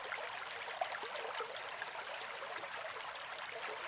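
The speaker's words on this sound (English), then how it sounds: "take one final moment to listen to the river's gentle lapping sounds" A river flows and gently laps, a soft continuous hiss of moving water with faint trickles, steady and calm with no voices.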